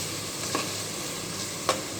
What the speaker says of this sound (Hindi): इसको अच्छी तरीके से मिक्स कर लेंगे और 2 से 3 मिनट के लिए इसको भूनेंगे